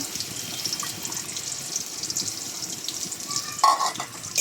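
Garlic and onion frying in oil in a home kitchen give a steady, close sizzle with a light hiss throughout, and a brief clink and louder flare of sizzling near the end.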